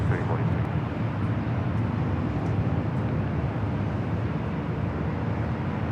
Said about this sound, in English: This Delta A320 taking off to Dallas Fort Worth